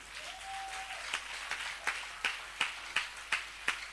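A church congregation claps in a steady rhythm, sharp claps landing about every third of a second and growing louder, with a brief sustained sung tone near the start.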